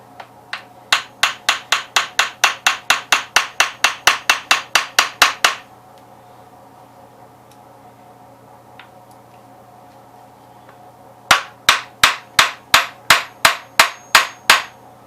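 Rapid metallic hammer blows ring out in a fast, even series on a stuck clutch shaft during PTO removal from a Gravely 8-speed transmission, then pause in near quiet before another quick run of strikes.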